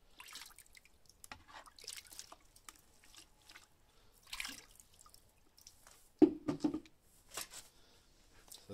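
Water sloshes and drips in a gold pan while material from a small sluice's mats is panned off, quiet irregular splashes and trickles with a louder swirl near the end.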